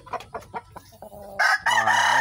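A few sharp clucks lead into a loud, close crow from a large Asil gamefowl rooster that carries to the end.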